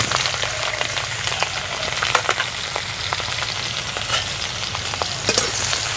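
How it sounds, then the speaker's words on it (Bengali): Chopped eggplant frying in hot mustard oil in a wok, a loud, dense, steady sizzle with frequent sharp crackles and spatters, close and continuous with no voices. "এখন গরম কড়ার মধ্যে সরষের তেল দিয়ে দিচ্ছি। ওই তেলের মধ্যে এক বাটি বেগুন কুচি দিয়ে দিচ্ছি।"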